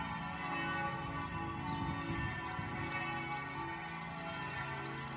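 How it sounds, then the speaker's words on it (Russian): Bells ring at the Catholic Church of St. Peter in Germany, a sustained wash of overlapping tolls and humming overtones that holds steady and fairly loud outdoors, with faint bird chirps on top. "Как же я люблю колокольный звон. Прохожу как раз мимо католической церкви."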